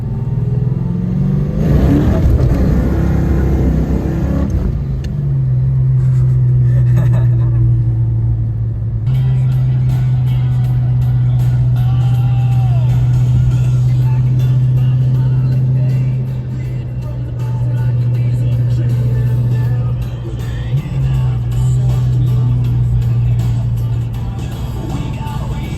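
A Ford 5.0 car cruising around town gives a steady low engine rumble from inside, with a brief rev and shift near the start and a continuous drone after.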